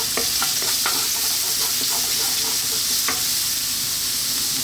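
Garlic frying in hot cooking oil in a wok: a loud, continuous sizzle close up, punctuated by scattered clicks and scrapes of stirring, with no talking.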